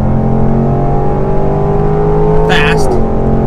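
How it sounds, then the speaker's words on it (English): A Range Rover Sport Supercharged engine and exhaust roar loudly and continuously under acceleration, the tone rising then dipping near the end, heard from close by with a short burst of noise over the drone. "This exhaust is hands down one of the most greatest exhausts"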